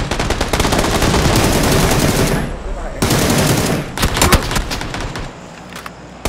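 Rapid automatic gunfire in a squad shooter video game, dense sustained bursts filling most of the clip, broken by a brief pause and scattered single shots, with players' voices faintly underneath.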